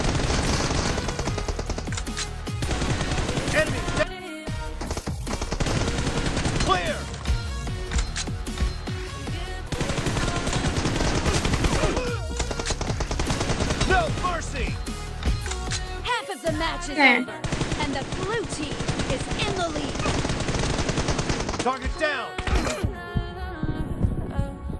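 Rapid automatic gunfire in a PUBG team deathmatch, dense bursts of shots filling most of the stretch with brief pauses, loud and close, with game sounds mixed in.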